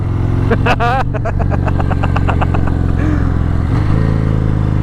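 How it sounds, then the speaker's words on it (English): A 2021 Harley-Davidson Fat Bob motorcycle engine runs loudly throughout, with a rapid series of sharp pops and crackles from the exhaust on the overrun in the first half, then steady engine rumble. "It's just popping and banging on the overrun, which is really cool."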